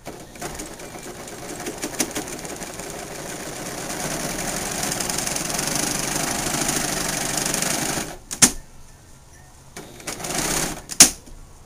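A serger stitches fold over elastic onto knit fabric, a steady fast mechanical whir running unbroken for about eight seconds, then stopping, followed by a few short bursts and clicks.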